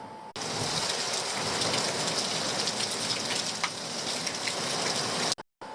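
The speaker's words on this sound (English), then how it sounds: "it's been raining, it's just non-stop" Heavy coastal rain pours steadily and loudly, a dense continuous hiss of drops on surfaces that runs unbroken for several seconds before stopping abruptly.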